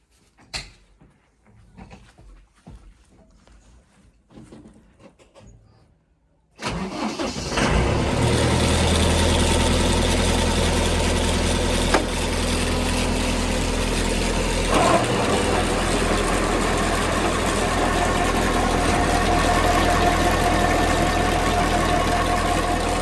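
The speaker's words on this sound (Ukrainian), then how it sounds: "Так, заводимо трактора, виводимо на обороти." A tractor engine starts up after a few faint clanks and knocks, then runs loud and steady at raised revs while driving a homemade generator built from an electric motor through the tractor's PTO.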